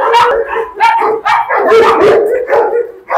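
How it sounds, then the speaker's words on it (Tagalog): A Great Dane barks wildly in loud, rapid bursts very close by, with deep booming barks mixed with howl-like yelps and nothing else underneath. "Ito natin si Great Dane. Nagwawala siya dito, oh."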